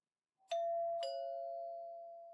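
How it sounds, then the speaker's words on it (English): A new wireless doorbell, an ESP8266 ESP-NOW extender setup, chimes two clear tones about half a second apart. The second tone rings on and slowly fades in an otherwise quiet room. "if I connect it to the relay and then go and ring the doorbell again"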